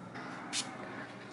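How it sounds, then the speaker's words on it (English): A single short hiss of room spray bursts from a can in a quiet room, lasting a fraction of a second. "And then you just spray it in your room."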